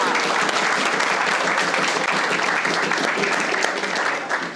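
Applause from an audience at a business talk on building wealth, dense steady clapping that fills the whole stretch at an even, loud level.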